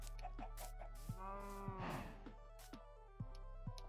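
Cows in a farm enclosure inside a video game moo in several drawn-out calls, one long low moo in the middle, over a steady background hum and scattered soft clicks, no talking.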